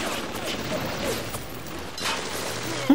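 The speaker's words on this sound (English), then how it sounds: "Shoot him, turret!" Automated turret gunfire in the BioShock video game rattles as dense, continuous bursts of shots with mechanical clatter, fairly loud across the whole stretch, ending in a sharp thump.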